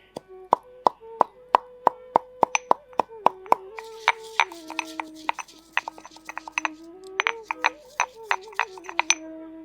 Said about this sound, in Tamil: அதை இடித்து பொடியாக்கிட்டு அதுக்கப்புறமா இதை போட்டு இடிக்கணும்